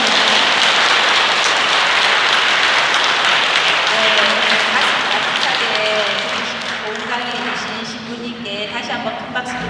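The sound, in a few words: audience applause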